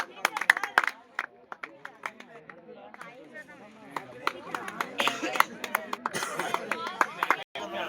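Scattered clapping from a crowd at a Pongal festival games prize-giving, sharp bursts of hand claps mixed with loud talk from an announcer and people nearby.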